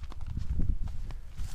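A horse walks nearby, its hooves producing soft, irregular clip-clop thuds over a few seconds with no voices over them.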